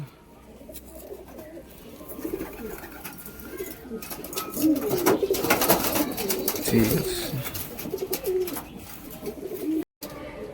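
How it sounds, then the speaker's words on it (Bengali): Pigeons coo close by, several overlapping calls building in the middle, with scattered clicks and faint background noise. "বন্ধুরা পায়রাগুলো আপনারা দেখছেন"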